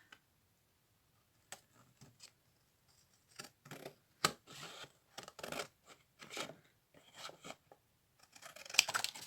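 Scissors snipping while customising a recycled ribbon reel, a string of quiet, sharp cuts in irregular bursts, close and faint against a silent background.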